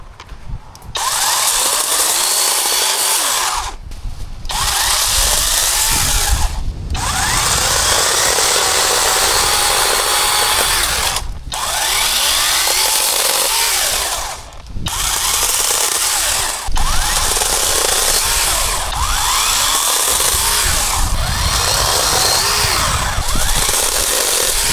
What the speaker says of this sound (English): So now with an electric chainsaw